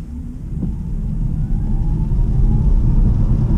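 Xpeng G3 electric car accelerating hard in eco mode, heard from inside as a steady low rumble and road roar that builds gradually, with a faint rising electric motor whine and no talking.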